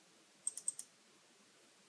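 Four quick, light clicks in rapid succession, close and crisp against near silence, as a computer mouse works through Revit software, followed by one faint tap.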